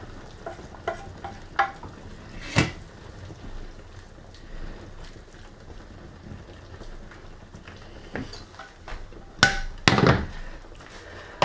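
Sautéed vegetables are scraped from a frying pan into a pot of borscht soup, giving scattered clinks, scrapes and wet plops of food dropping in, with a low sizzle underneath.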